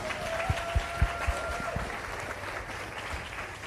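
A sales workshop audience applauds: a steady wash of clapping from the room, with a few louder low thumps early on and a faint voice under it.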